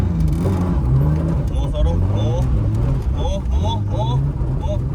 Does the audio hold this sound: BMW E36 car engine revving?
yes